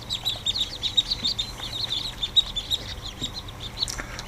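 A crowd of newly hatched ducklings in a hatching tray peep continuously in high, overlapping chirps, close and moderately loud.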